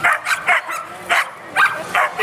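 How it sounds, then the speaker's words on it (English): A dog barks in rapid, sharp, high yips at an outdoor frisbee dog show held during a hot dog festival, about six loud, close barks in quick succession. "the first dog we're going to bring out"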